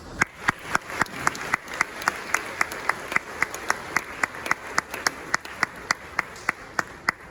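High school graduates applaud their families at a graduation ceremony, sustained clapping from a crowd with a few sharp, regular claps standing out close by, and a voice in the background.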